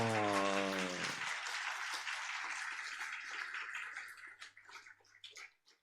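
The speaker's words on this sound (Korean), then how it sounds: "우리 축하박수 합니다" A church congregation claps in congratulation at an ordination service for elders, ordained deacons and deaconesses at Pyeongtaek Pyeongan Presbyterian Church. The dense, steady applause follows a brief held musical tone and thins out toward the end.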